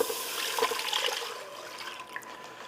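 Milk and cream poured into a pan for a Thanksgiving side dish, giving a steady close liquid pour and trickle that splashes a little and tapers off over a few seconds, with no talking.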